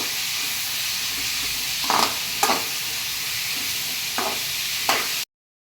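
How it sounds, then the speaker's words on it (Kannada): Chili peppers fry in a pan with a steady loud sizzle and hiss, broken by a few short scraping stirs, before the sound cuts off abruptly. "ಈಗ ಮೆಣಸಿನಕಾಯಿಯನ್ನು ಹಾಕಿಕೊಳ್ಳಿ. ನಂತರ ಇದನ್ನ ಚೆನ್ನಾಗಿ ಹುರಿದುಕೊಳ್ಳಬೇಕು."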